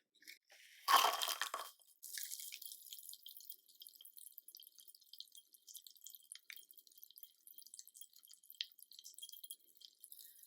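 A sharp fizzing burst as a chemical reaction starts in cold water, then a long stretch of faint, scattered crackles and pops, like a small reaction sizzling quietly in water.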